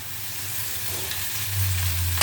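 Dried garlic with dried and green onion fries over lowered heat in a pan, a steady close hiss and crackle with a low hum rising toward the end, no talking.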